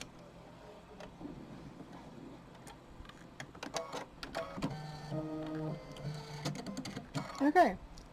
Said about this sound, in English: So it may take a few minutes to stitch out.